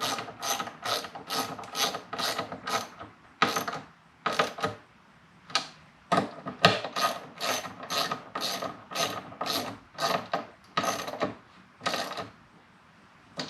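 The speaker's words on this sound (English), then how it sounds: "Get my 1/4" drive ratchet here. Tighten these down." A 1/4-inch drive ratchet tightens bolts on a bass boat gas strut mount, giving repeated bursts of sharp clicking pawl ratcheting in quick, uneven strokes with short pauses, close and clear.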